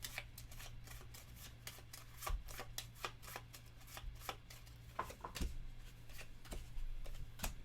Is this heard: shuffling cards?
yes